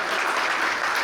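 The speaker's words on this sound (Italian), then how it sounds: "prenderci questo grandioso applauso dal pubblico presente" Audience applause at a retirement celebration, a dense steady wash of clapping filling the room, loud and continuous throughout with no voices standing out.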